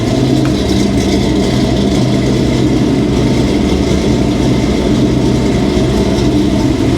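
A car engine idles fast just after being started, a steady loud rumble with a continuous mechanical hum and no break or change in pace.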